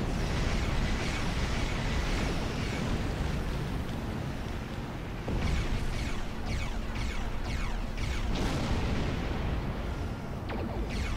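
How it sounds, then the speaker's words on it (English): A starship explodes in the Star Trek Online space game as dense, loud rumbling blasts and crackling debris roar continuously, swelling in a few bursts before fading slightly at the end. "Ship explosions cause damage."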